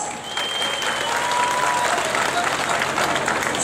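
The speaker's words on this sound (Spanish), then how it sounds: "Aplausos para la pareja número dos." A crowd claps and cheers for couple number two at the Santiago Apóstol festival concert and bullfight in Cuautepec, Guerrero, a dense, continuous burst of applause with voices mixed in.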